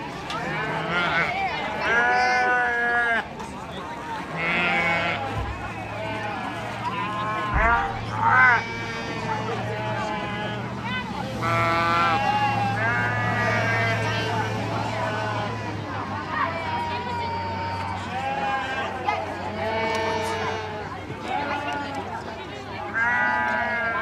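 Sheep bleat repeatedly in a county fair livestock show ring, several loud wavering calls from nearby animals overlapping each other, with a low steady hum underneath and people talking.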